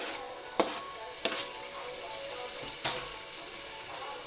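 Jalapeno, green pepper and garlic frying in a pan, with a steady bright sizzle throughout and a few sharp clinks of stirring against the pan, no talking.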